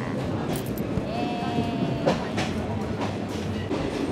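A second-class, non-air-conditioned Thai train on the line from Bangkok to Nakhon Ratchasima rumbles along with steady rhythmic wheel clatter, a brief metallic squeal and faint voices in the carriage.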